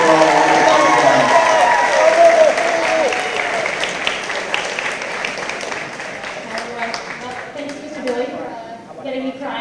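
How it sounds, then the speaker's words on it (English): An audience at a school moving-on ceremony applauds Miss Madden, a full round of clapping mixed with cheers and voices that gradually tapers off while talk continues over it. "if we could all give Miss Madden a round of applause for her thanks for all the work she's done"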